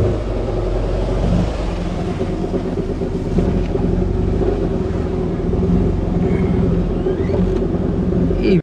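Close, loud rumbling idle of a small Fiat 126P engine just started inside a garage, running steadily with mechanical clatter and faint creaks as the car reverses out.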